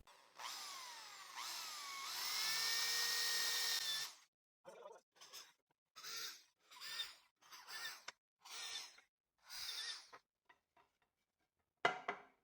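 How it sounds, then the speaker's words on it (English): A hand drill with a 2 mm bit bores into wood, first a sustained whirring run, then a series of short stop-start bursts separated by silence, close but fairly quiet. "To drill, I'll use the hand drill with a 2 millimeter bit and a 6 millimeter countersink bit."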